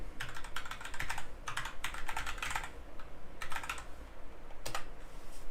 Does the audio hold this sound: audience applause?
no